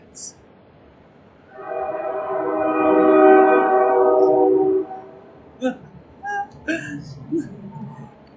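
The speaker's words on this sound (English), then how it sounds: "clearly there's a train that comes through at this time of night" A train passes through a small town at night, about a block from an old house, its long droning horn swelling in over several seconds and then cutting off, followed by scattered knocks and clicks.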